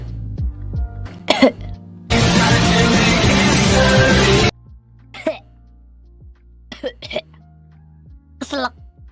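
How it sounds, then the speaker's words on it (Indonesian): A person coughs after choking mid-phrase during a live stream: a few sharp, close coughs, then a loud rushing blast of breath or noise lasting about two seconds, followed by several more short, separated coughs and throat-clearing bursts. "I fear Ara Ara ended in coughing."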